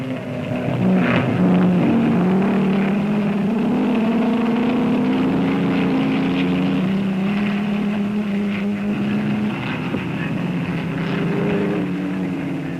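A 1959 Aston Martin race car driven by Moss at the Nurburgring gives off a continuous droning engine note, held steady and slightly distant with no break.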